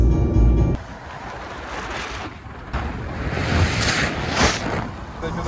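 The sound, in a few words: sea waves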